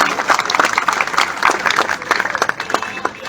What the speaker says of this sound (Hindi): तिवारी जी और भाई जयवीर राणा जी के लिए एक बार जोर से तालियां बजाइए